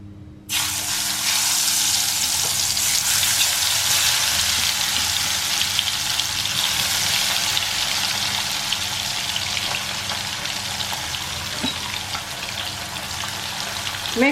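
Bitter gourd pieces frying in hot oil give off a loud, steady sizzle with a watery, crackling hiss that sets in abruptly and holds strong throughout, without any talk over it.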